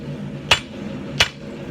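A hand hammer strikes a hot steel billet at an angle while a 3 pound straight peen hammer head is being forged. Two sharp, ringing blows land about a second apart over a low background hum.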